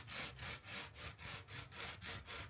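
Coarse 60-grit sandpaper scrubs across an epoxy-coated RV countertop in a steady back-and-forth rhythm, about eight loud, close rasping strokes.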